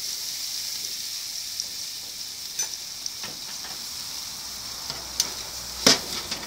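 Carrots sizzle on a hot barbecue grill in a steady, close hiss, broken now and then by small pops and crackles.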